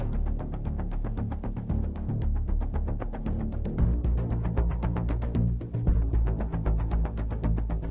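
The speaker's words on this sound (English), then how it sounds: "I'm just going for low pulses from Gravity 2." Low string pulses from the Gravity 2 sample library drive a rapid, steady ostinato of short repeated notes, dense and rumbling, loud and continuous with no talking.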